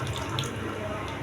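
Roasted gram powder mixed with water is poured into a cooking pot in a steady, close liquid splash and gurgle that lasts the whole moment.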